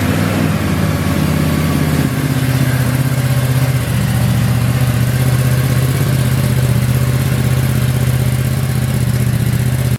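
A 2017 Ducati Multistrada 950 motorcycle engine running steadily up close, a low droning idle that settles slightly after a brief shift near the start, continuous and loud with no talk.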